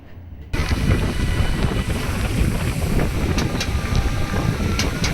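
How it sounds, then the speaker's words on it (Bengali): Strong sea wind on Digha beach roars and buffets the microphone with a loud, steady rush, starting suddenly after a brief quieter moment, with no one speaking. "এত পরিমাণে হাওয়া আর জলের সাথে জলীয় বাষ্প আসছে"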